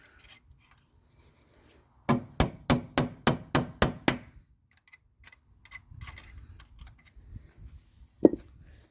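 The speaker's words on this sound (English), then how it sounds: "I'm just using a drift chisel or punch or whatever." Seven sharp metallic hammer blows on a drift punch ring out in a steady rhythm against the axle nut of a 2005 Toyota Corolla 1.8, close and loud, followed by quieter clinks and shuffling.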